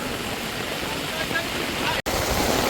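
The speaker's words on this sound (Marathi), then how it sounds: "बघा किती पाणी पडत आहे आणि किती पाणी उतरत आहे तो शेतांमध्ये" Floodwater from a village river pours into farm fields with a loud, steady, broadband rushing roar that stays even and continuous throughout.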